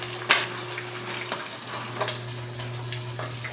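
Pork pata sizzles steadily in hot lard, a continuous frying crackle with occasional sharper pops and a faint background hum, no one speaking.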